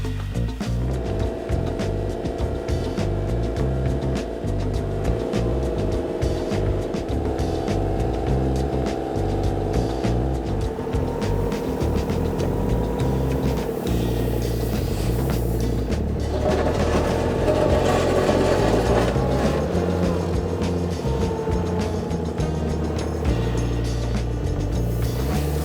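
An H160T telescopic handler driving, its engine a loud, steady rumbling drone with gear and revving changes running throughout, close and continuous with no talk.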